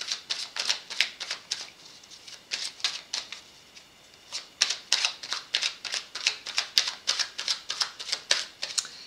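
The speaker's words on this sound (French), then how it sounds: "je demande 5 cartes à l'oracle pour démarrer" Oracle cards are shuffled in repeated quick riffling bursts, a steady series of crisp, papery flutters close to the listener, quiet overall and with no voices.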